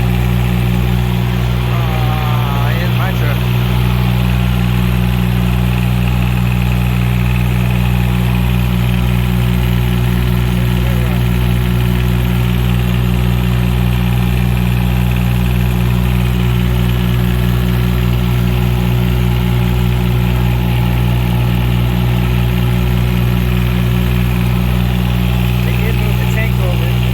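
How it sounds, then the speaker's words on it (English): A truck engine idles loudly and close by, a steady low rumble with a faint knocking pulse that holds unchanged for nearly half a minute, while a person talks over it. "there's a truck running"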